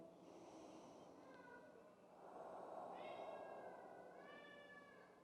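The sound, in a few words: cat meowing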